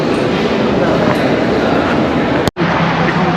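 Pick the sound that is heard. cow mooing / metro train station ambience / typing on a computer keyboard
metro train station ambience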